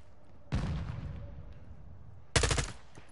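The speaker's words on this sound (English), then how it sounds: "Shooting a dead body." Two loud bursts of automatic gunfire from a first-person shooter video game, the first around half a second in and the second near the end, each a short rapid volley over quiet background game ambience.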